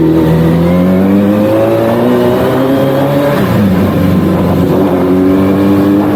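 An old big sports motorcycle engine runs steadily up close, its deep throbbing tone holding a loud, even drone with a slight shift in pitch partway through.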